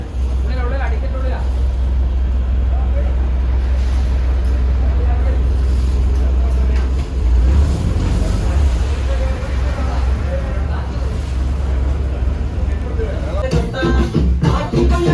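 A tourist motorboat ride at Parassinikadavu in Kerala, with a loud, constant engine drone and churning water close by throughout, plus a brief rattle near the end.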